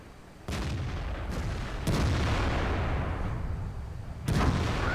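Heavy tank cannon fire in a tank battle game, an ST-1 hitting a T-29: several sharp booming shots over a steady rumbling engine bed, the last and loudest near the end.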